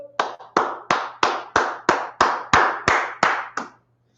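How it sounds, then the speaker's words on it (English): An audience claps in eleven sharp, evenly spaced bursts during a religious class, a steady rhythmic group clap that stops abruptly near the end, loud and close with no talk. "All right, clap it up, clap it up."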